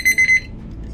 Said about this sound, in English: That was my alarm on my timer for my dinner going off.